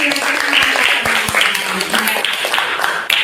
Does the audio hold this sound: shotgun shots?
no